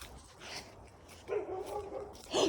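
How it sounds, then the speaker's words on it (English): A dog barks on a nature walk, a few faint, distant barks and yips over quiet outdoor ambience, with no talk. "Dog! I hear a friend!"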